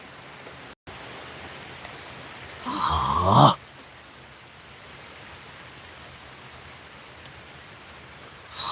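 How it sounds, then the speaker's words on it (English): A sudden downpour in Georgia, a steady, close hiss of heavy rain falling throughout, briefly overlapped by a short voiced exclamation near the middle. "Holy crap! It's raining."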